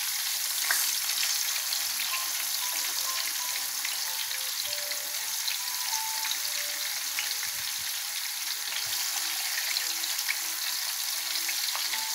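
Round onion slices seasoned with salt, turmeric and pepper fry in a pan with a continuous, even sizzle and faint crackles throughout, with no talking.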